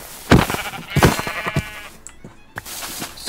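Minecraft sheep bleat in a survival game, with several short, nasal baa calls close by and a brief gap before a final bleat, alone without speech.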